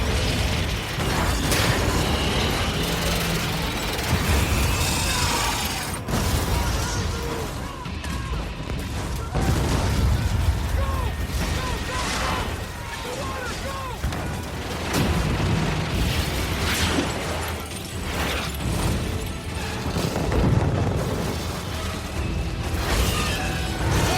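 Continuous barrage of movie explosions as an alien warship bombards and destroys an Aegis destroyer, dense booms and blasts layered over a loud, churning soundtrack for the whole stretch.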